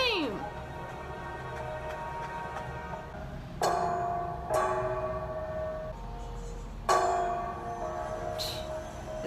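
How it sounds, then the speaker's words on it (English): A bell rings in an episode of the Star Wars series Andor, struck a few times at spaced intervals, each metallic clang ringing out and decaying slowly over a low background hum. "It's like a bell."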